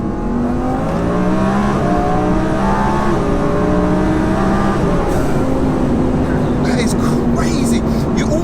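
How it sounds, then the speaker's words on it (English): A twin turbo Audi R8 accelerates hard with a rising, layered whine as the revs climb and shift and the turbos wind up, heard from inside the cabin under occasional talk. "Hear the turbos winding up too."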